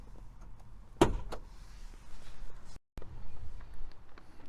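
The hood of a 1982 Honda Prelude is opened with one sharp, fairly quiet latch clunk, followed by soft handling rustles and brief shuffling nearby.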